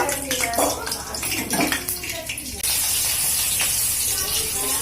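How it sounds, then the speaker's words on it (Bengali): Nigella seeds and green chillies dropped into hot mustard oil, with an abrupt loud hiss of sizzling that holds steady after earlier clattery kitchen sounds and faint talk. "তেলটা গরম হয়ে গেলে এর মধ্যে একটু কালো জিরে ফোড়নে দিয়ে দেওয়া হলো কাঁচা লঙ্কা দিয়ে দিল"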